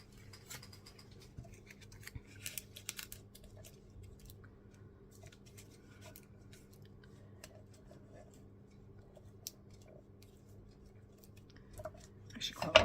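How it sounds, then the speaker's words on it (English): Scissors cutting paper in a quiet craft setting, faint scattered snips and rustles over a low background hum, ending in a louder handling sound. "I'm just going to cut that in half"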